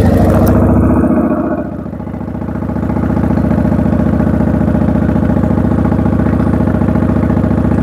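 A motorcycle engine starts up and settles into a steady, close, loud idle with a dense rumbling rhythm that continues to the end, no talking over it.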